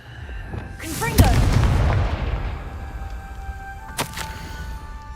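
A Confringo fire spell blast from the Hogwarts Legacy video game: a sharp whooshing burst swells into a booming fiery roar, tails off over a couple of seconds, then a second short crack follows.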